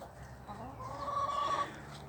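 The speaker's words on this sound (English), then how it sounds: "the chooks have a tendency to dig everything out" Backyard hens in a chicken house give a short run of soft, close clucks that swell briefly in the middle and then settle.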